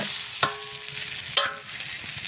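Potatoes poured into a pan of frying onions, garlic and chili, with two sharp clattering hits as the pieces land over a steady close sizzle.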